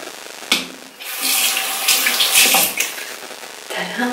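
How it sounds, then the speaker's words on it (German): Tap water runs into a bathroom sink for face washing, a loud close splashing rush with hands moving through the stream, broken by brief pauses. "Ich werde jetzt hier mein Gesicht nass machen."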